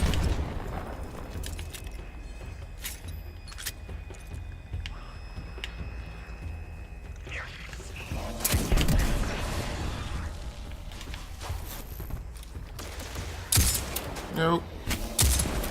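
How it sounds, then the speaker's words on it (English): Exploding barrels in the Mission 88 video game, several sharp loud blasts bursting out of a busy game soundscape, with a brief spoken word early on. "Exploding barrels."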